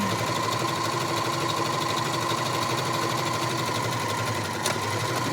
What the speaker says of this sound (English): I'm going to hit the foot pedal, and I'm going to take a few stitches back to secure it.